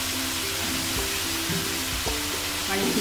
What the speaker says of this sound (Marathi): आणि मस्तपैकी तेलामध्ये दोडक्याला असं परतून घ्यायचं आहे